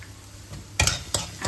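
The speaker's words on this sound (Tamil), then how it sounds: "இதில் கொஞ்சம் நம்ம இஞ்சி பூண்டு பேஸ்ட் ஆட் பண்ணிக்கலாம்." Ginger garlic paste stirred into softened onions frying in a pan for mutton biryani, giving a few scraping spoon strokes over a faint, steady sizzle, close and fairly quiet.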